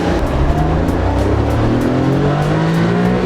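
A tiny 60-horsepower car engine revs loudly and climbs in pitch as it accelerates, a steady droning buzz heard close up from inside the car.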